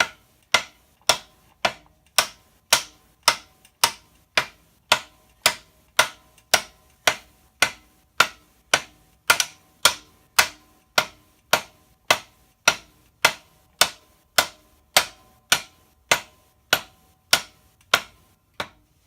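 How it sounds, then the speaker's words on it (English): Rubber mallet tapping a bell housing onto a truck transmission input shaft, a long even series of about thirty sharp knocks roughly every half second, close and clear with no talking. "so I'm going to grab the rubber mallet."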